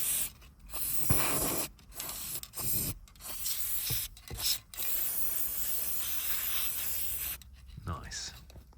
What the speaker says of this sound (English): spray some Dinatrol in there to stop any possible corrosion happening